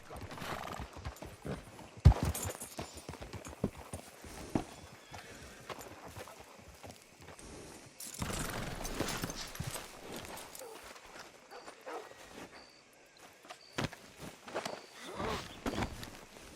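Horse hooves clip-clop at a walking pace in the Western video game Red Dead Redemption 2, with a whinny and occasional game sounds and talk mixed in.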